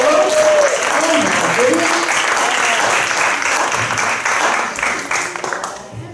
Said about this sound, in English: Let's have another round of applause for 90 years, folks!